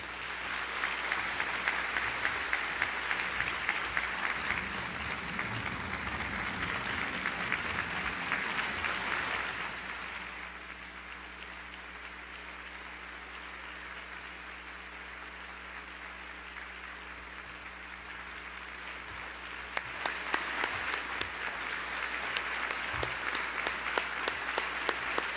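Audience applause welcoming Pete Nicholas at the Nicholas Institute Environmental Summit: dense, steady clapping from a large crowd for about ten seconds, a quieter lull, then a fresh burst of clapping near the end.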